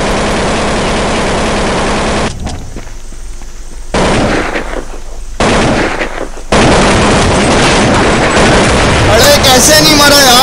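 Loud, dense bursts of Counter-Strike 1.6 gunfire and explosions, broken by short quieter gaps, with voices talking over the action.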